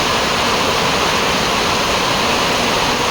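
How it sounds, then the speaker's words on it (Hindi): Heavy rain pours down while water rushes along the road, a dense, unbroken hiss with no gaps and no voices. "है बारिश देखो अभी रास्ता में पानी बहुत हो गया"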